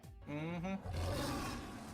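A lion roars close and loud, a deep rumbling call with harmonic growl that swells and holds for nearly two seconds, with no voices over it.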